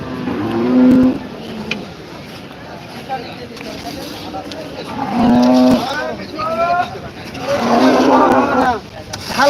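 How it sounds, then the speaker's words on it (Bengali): A large cow moos repeatedly at a rural cattle market, three long, loud, deep calls spaced a few seconds apart, with people talking in the background between them. "আমার সামনে কিন্তু অনেক বড় একটি গাভী আপনারা দেখতে পাচ্ছেন"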